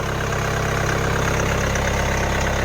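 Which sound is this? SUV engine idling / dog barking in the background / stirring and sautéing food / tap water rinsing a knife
SUV engine idling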